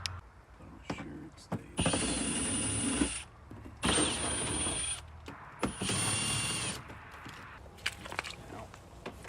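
A power drill fitted with a right angle adapter, used during a pocket-style fender flare install on a truck, whirs in three loud bursts of about a second each, separated by pauses and small handling clicks.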